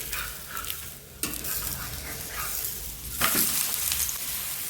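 Cucumber thalipeeth frying in oil on a pan gives a steady close sizzle, broken by two brief scraping clatters as it is handled.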